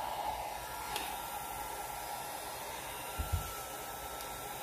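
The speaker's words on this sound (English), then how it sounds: "So I'm going to have my blow dryer ready because I do not want this to be a big spot." A blow dryer runs steadily on alcohol ink, a constant loud whooshing hiss throughout with a couple of faint knocks near the end and no talking.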